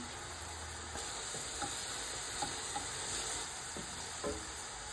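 Star anise dropped into hot oil in a pan while cooking chicken biryani, giving a steady close sizzle with faint scattered crackles and stirring clicks, no voices.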